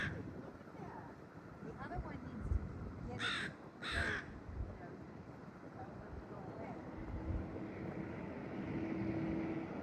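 Crows caw around an eagle holding a fish in a tree at Valdez, Alaska. Two or three harsh calls stand out over a steady boat-engine hum and wind, with a voice faintly present.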